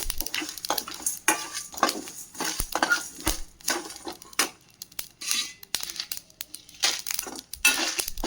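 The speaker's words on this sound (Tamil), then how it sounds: "மிளகு, சோம்பு, கொத்தமல்லி, ஜீரகம் இது எல்லாத்தையும் ட்ரை ரோஸ்ட்டாக வறுத்து எடுத்துக்கலாம்." Whole pepper, fennel, coriander and cumin dry roast in a pan for a South Indian baby potato varuval, giving close rattling, scraping stirs and clinks of a spoon on metal in quick irregular bursts, with no talking.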